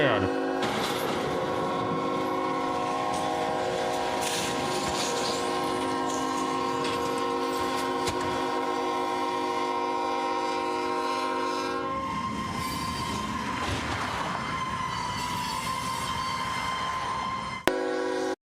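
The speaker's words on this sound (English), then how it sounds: "A freight train just, slammed into a semi." A freight train rumbles by a railway crossing, sounding a long loud horn that holds for about twelve seconds before the rolling noise continues, with people talking under it.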